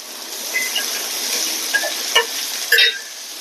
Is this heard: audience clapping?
no